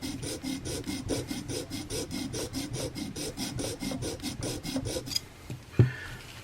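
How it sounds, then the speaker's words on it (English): A small flat file rasps a slot in a chef's knife handle with quick, regular back-and-forth strokes, close and clear, ending with a single sharp knock. "big enough to get my little flat file in there. Now I'm just going to keep going with this until we get it all cleaned up."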